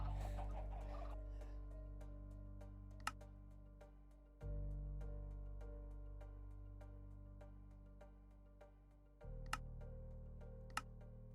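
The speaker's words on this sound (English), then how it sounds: "How's the chicken noises?" Chicken clucking from a Minecraft-style chicken farm in a video game, with soft repeated ticking clicks over a steady low droning hum that swells in three stepped blocks; no one speaks.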